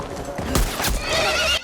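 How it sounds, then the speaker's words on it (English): Horse in The Last of Us video game gives a loud, close neigh that rises and falls over about a second, with hoof clip-clops underneath and no speech. "They not just go and shoot my horse."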